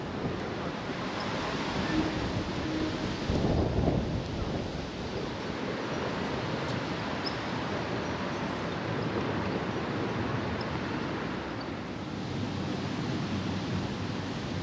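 Strong wind roars steadily across the microphone on an open city square, Augustusplatz in Leipzig, Germany, a broad continuous rushing noise with gusts swelling and easing throughout.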